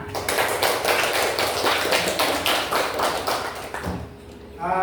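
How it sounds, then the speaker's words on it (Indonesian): Audience clapping at an Islamic religious gathering: steady, dense patter of many hands filling nearly five seconds, fading slightly before a brief voice at the end. "Mari tepuk tangan."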